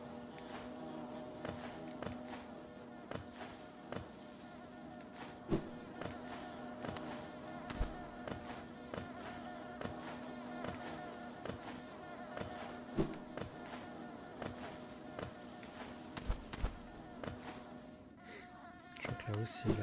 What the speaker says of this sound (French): Donc là, c'est les fameuses abeilles.